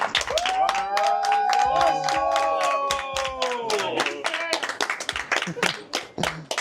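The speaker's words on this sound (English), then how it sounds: "Let's give this guy a round of applause" Rhythmic clapping from a small group, steady and close, with a voice shouting or whooping over it for the first few seconds.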